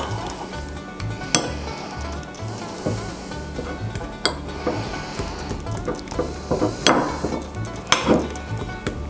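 Homemade butter being stirred with salt in a bowl, giving soft scraping and mixing noise punctuated by occasional sharp clinks of utensil against the container.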